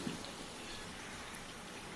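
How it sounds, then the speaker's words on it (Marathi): Chakali frying in hot oil, its bubbling settling down into a soft, continuous crackling sizzle, close and fairly quiet, with no voices over it. "आता बुडबुडे हळूहळू कमी व्हायला लागले"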